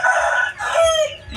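A rooster crows once nearby, a loud, drawn-out call that rises and trails off, heard on its own.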